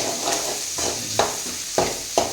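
Onions sizzling in a hot pan for a fish curry, a steady close frying hiss broken by several sharp stirring scrapes spaced about half a second apart, with no talk.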